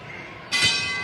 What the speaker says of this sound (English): I think we're going to hear the bell here.